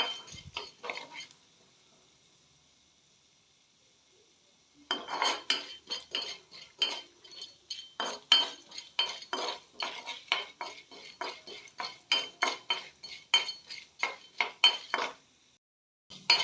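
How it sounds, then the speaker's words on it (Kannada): A spoon stirs urad dal frying in a pan over a medium flame, rapid metallic scrapes and clinks in a quick uneven rhythm after a quiet pause, close and fairly loud with a faint sizzle beneath. "ಫ್ಲೇಮ್ನ ಮೀಡಿಯಮ್ನಲ್ಲಿ ಇಟ್ಕೊಂಡು ಫ್ರೈ ಮಾಡ್ಕೊಳ್ಳಿ."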